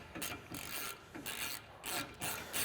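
Ratcheting tool backing out T40 Torx screws from the grille of a Polaris Ranger: quick, close rhythmic clicking and rasping in short bursts with brief gaps between them.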